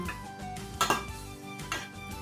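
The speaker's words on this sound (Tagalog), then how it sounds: "halo-halo ang giniling at saka yung pasta" Ground meat and pasta are mixed in a pot for baked pasta, with soft stirring and scraping punctuated by a few louder metallic clinks of a spoon against the pot.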